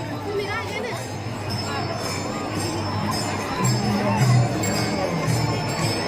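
A huge crowd of pilgrims at the Pandharpur temple near the Pundalik shrine, heard as a steady, dense hubbub of many distant voices with swells of louder chatter midway.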